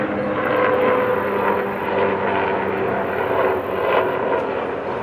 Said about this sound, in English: I got a plane coming through here, or a helicopter.